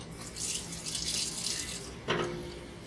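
Water from a well supply runs from a tap into jars for cranberry juice, a steady hissing splash with a brief surge near the end, heard close with no speech.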